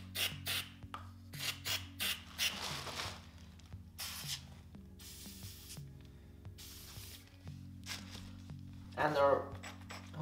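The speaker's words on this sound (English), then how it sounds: "I'm going to try to carefully hone all of the lifter bores to make sure that it will fit." A honing stone works in and out of the lubricated lifter bores of a Lotus Europa engine block, producing soft, close rasping and wet scraping strokes in irregular bursts at low volume.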